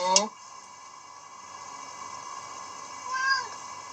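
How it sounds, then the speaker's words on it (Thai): A cat meows once near the start, a short bright call, then a second fainter meow drifts in about three seconds later over a steady electronic hum during a livestream. "แมว"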